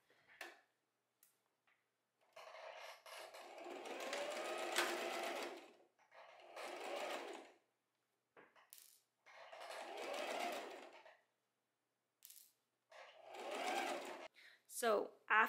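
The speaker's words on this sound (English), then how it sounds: "I'm just going to stitch it across" A sewing machine stitches across fabric tubes for a scrunchie in short runs: five or six bursts of rapid mechanical whirring, each a second or two long, split by quiet pauses, with light handling clicks near the end.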